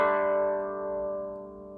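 Koto strings ring out from a sharp plucked attack, sustaining as a bright, resonant chord that slowly decays with a gentle swell, played with the sha technique in a beginner lesson on the piece Usagi.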